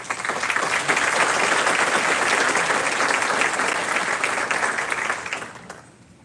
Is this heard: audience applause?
yes